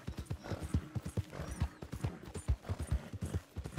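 Horse hooves clip-clopping in a steady, rhythmic gait while riding in the open-world game Red Dead Redemption 2, close and fairly loud with a soft snort or whinny mixed in, no talking.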